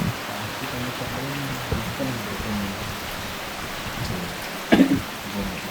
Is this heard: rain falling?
yes